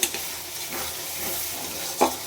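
Spice paste with crushed ginger being stirred and sautéed in a pan for crab curry, a soft steady sizzle with light stirring scrapes and a brief clink near the end.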